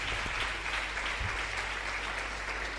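A church congregation applauds in continuous, dense clapping that holds steady throughout, with a low hum underneath.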